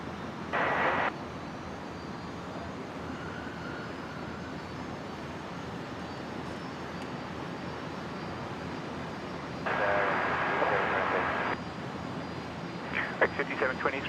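A plane lands on runway 01 left at Brisbane Airport, its engine roar a steady distant rumble, broken by short crackly bursts of radio chatter.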